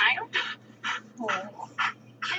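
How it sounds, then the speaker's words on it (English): A wolf in the video game Minecraft whimpering, a series of about six short, high, nasal whines in a steady rhythm, close and clear over a faint low hum. "Wolves just sound like big puppies."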